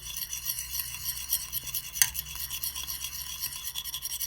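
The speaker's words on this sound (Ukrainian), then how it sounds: "Розмішуємо жовточок до однорідної консистенції" Egg yolk whisked with salt in a bowl, a quiet continuous swishing and clicking of the utensil against the bowl with one slightly sharper tap midway, close and soft, no speech.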